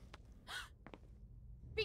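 A character in Prince of Persia: The Sands of Time lets out short, breathy gasps, two brief bursts about a second apart, faint and close against a quiet background.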